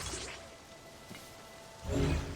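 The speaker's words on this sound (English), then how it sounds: "Of course, it's raining." Rain falls in the video game Zelda: Tears of the Kingdom as a soft, steady patter and hiss with faint drips and a brief louder whoosh near the end.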